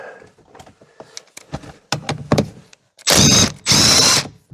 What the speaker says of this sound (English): Now just size 15. Let's get this steering wheel off.